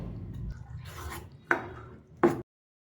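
Green gram batter mixed with chopped onion, grated carrot and curry leaves for paniyaram: a soft wet stirring scrape, then two sharp clacks of a utensil against the bowl before the sound stops.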